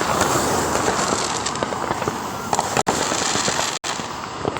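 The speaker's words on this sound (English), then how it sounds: "I done came to a spot where it's a bunch of firecrackers being popped." Fourth of July fireworks and firecrackers popping in a dense, continuous crackling barrage, loud and close, with two brief breaks near the end.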